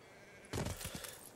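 Sheep bleat in the video game Anno 1800, a short burst of two or three quiet bleats over a low background hum.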